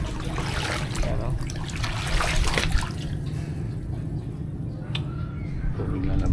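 Floodwater rushing and churning close by, a continuous loud wash with splashing and trickling over a heavy low rumble, holding steady throughout with a brief sharper splash near the end.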